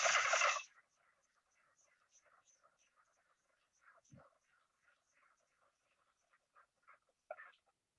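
A mink frog calls in a string of soft, rapid clucking notes spread across several seconds, faint and irregular against a quiet background, following a brief loud burst at the start.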